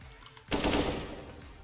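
A short burst of gunfire in a video game, a sudden loud rattle of rapid shots that fades out within about a second.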